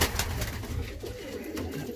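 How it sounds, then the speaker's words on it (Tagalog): Young pigeons coo in a loft, soft low throaty calls repeating close by in a short burst with no talking. "Ayan po mga kalapatids."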